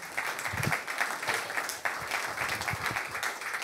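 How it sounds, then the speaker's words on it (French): Audience applause at a business leaders' conference on climate in Avignon as a guest is welcomed on stage, a steady mid-level wash of clapping that holds for several seconds with a brief dip partway through. "on peut vous applaudir."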